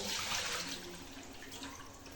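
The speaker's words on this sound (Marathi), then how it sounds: "आता मी हे पाणी काढून घेते इथं बेसिन मध्ये." Water from soaked rice poured off into a kitchen sink basin, a steady close rush and splash that holds fairly even throughout.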